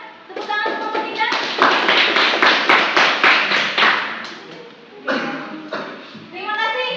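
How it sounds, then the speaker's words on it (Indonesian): Classroom applause for a student group after a physics class presentation, with dense clapping and tapping building to a steady burst, a pause, then a second shorter round of clapping mixed with children's voices. "Tepuk tangan untuk kelompok 3."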